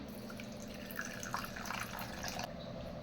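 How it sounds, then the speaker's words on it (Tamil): Water trickles and drips into a container of chia seeds, a short, fairly quiet splashing pour that stops abruptly near the end, with no talking. "இதுலேயும் நான் வந்து தண்ணி விடுறேன்."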